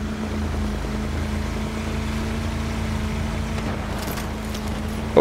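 A boat engine in the video game Battlefield 4 drones steadily at a low, even pitch with water wash over it, holding constant before a sharp bump at the end.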